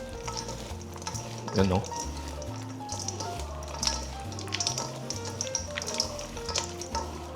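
Crispy pork sisig stirred in a hot pan, a steady frying sizzle with scraping and tapping of the utensil, plus a sharp clatter near the start; a voice briefly speaks over it.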